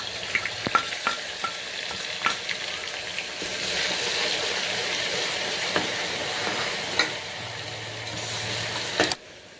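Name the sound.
frying green chillies and ginger garlic paste for mutton curry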